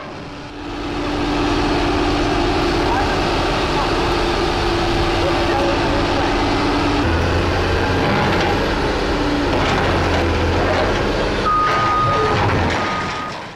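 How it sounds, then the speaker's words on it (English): Large excavator climbing onto a trailer at an equipment site, a loud steady diesel rumble with repeated reversing beeps and clanking tracks, heavy and close throughout. "This is a close-up video of the excavator climbing onto the trailer extremely skillfully by the operator."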